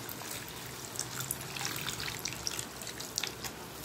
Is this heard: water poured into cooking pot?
yes